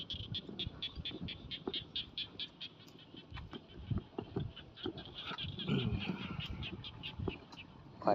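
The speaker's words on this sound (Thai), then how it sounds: "ฟังเสียงกบเสียงเขียด" Frogs croaking outdoors in the evening, a steady chorus of repeated rhythmic calls with higher chirping over lower croaks, with a person's voice intermittently speaking nearby.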